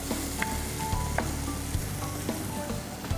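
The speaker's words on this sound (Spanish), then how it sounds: "en el mismo sartén donde salteé los chiles, voy a poner la crema" Cream hitting a hot frying pan just used for sautéing chiles, a steady soft sizzle close by with scattered pops and light clinks of a utensil, no speech.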